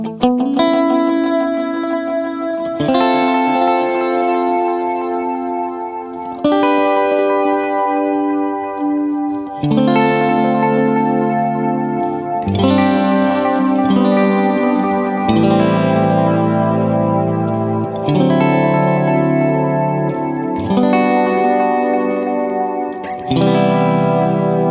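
Boonar Tube Deluxe echo unit by Dawner Prince with its feedback heads engaged, repeating slow, sustained chords into a thick, distorted, chorus-like wash, loud and continuous with no talk.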